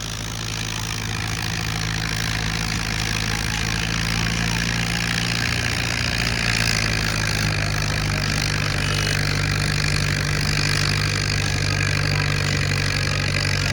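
A Fiat 640 tractor with straight exhaust pipes idles with a steady, low, throbbing engine rumble, loud and close throughout.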